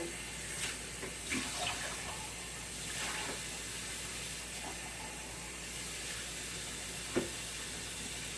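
Warm water runs steadily from a kitchen tap while eggs are warmed for an Instant Pot New York cheesecake, giving a constant soft hiss with a few faint clinks.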